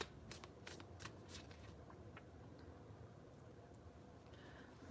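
Tarot cards are shuffled in a few quick riffling bursts near the start, followed by soft handling sounds in a quiet room.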